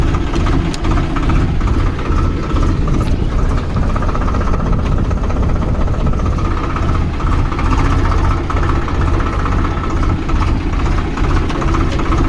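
A Swaraj 733 FE tractor engine idles steadily, a deep throbbing rumble with a faint knock that holds evenly and close for the whole stretch, with no voices.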